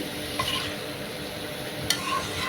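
Lentils are added to a frying pan and hiss in a steady sizzle, with a couple of brief stirring scrapes on top.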